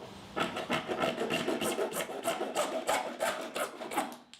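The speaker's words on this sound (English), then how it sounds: "Next, we're going to cut 2 1 inch long pieces of our 1/2 inch PVC pipe." A hand saw cuts through 1/2 inch PVC pipe in quick, rhythmic back-and-forth rasping strokes, close and fairly faint, with no voices.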